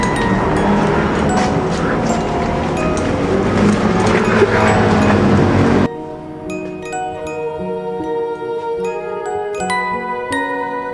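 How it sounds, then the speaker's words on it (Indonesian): Busy night road traffic of cars and motorcycles rumbles nearby in a dense residential area, vehicles passing with engine noise for several seconds, then the noise drops away leaving quieter jingling tones. "ini mohon maaf kalau bisa dengar banyak suara mobil, motor dan lain-lain"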